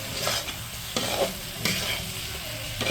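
Chicken masala sizzles in hot oil in a pan while a spoon stirs it, giving repeated close scraping strokes over a steady frying hiss.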